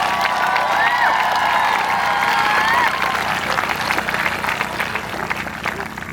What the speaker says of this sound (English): I just want to give a very, very, very big round of applause to the folks in media services